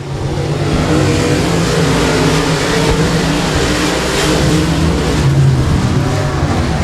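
Race cars at Timberline Speedway roar back to speed on a green-flag restart, a dense, steady wall of engine noise that holds loud throughout without clear breaks.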